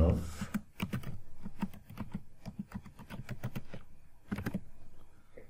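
Rapid typing on a computer keyboard: a steady run of crisp key clicks in quick irregular bursts, with a few short pauses between words, close and clear with no talking.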